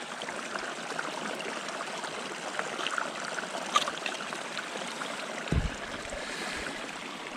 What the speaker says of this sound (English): I'm gonna go fill up my cup over here at this small spring